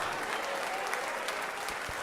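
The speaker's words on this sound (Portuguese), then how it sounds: "Vamos aplaudir mais ao nome de Jesus." A church congregation applauds during a worship service, giving dense, continuous clapping at an even level for the whole stretch.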